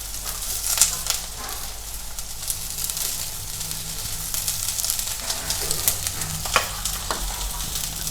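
Onion, cabbage and capsicum fry together in a hot pan for veg hakka noodles. A steady, dense sizzle and hiss continues throughout, broken by the scrape and clatter of stirring.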